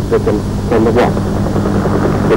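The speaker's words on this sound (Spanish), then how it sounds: "El helicóptero Wasp vuelve a su base, el Endurance" A Wasp helicopter, an aircraft returning to the ship Endurance near South Georgia, drones steadily with a broad rotor and engine roar throughout, while some speech-like sounds come and go over it.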